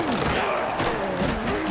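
A stadium crowd in a college football video game roaring after a score, a dense continuous cheer at steady volume with voices calling out within the noise.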